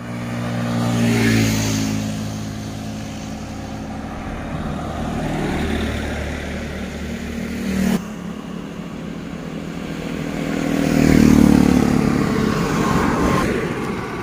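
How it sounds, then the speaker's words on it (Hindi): A Yamaha R15 motorcycle on a ride from Mangaldoi to Kharupetia gives a loud, steady engine drone that swells and eases as the throttle changes, with no talking over it. "ये मेरा बाइक है R15, इससे मैं रनिंग करूंगा।"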